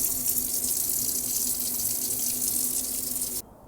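Water runs steadily from a tap through an under-sink filter in an RV, a continuous close hiss that cuts off abruptly near the end.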